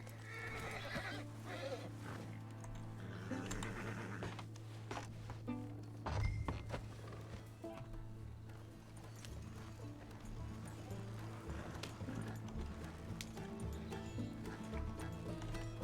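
Horse hooves clip-clop steadily in Red Dead Redemption 2, mixed with a horse's whinny and snorts, alongside background music and scattered thuds.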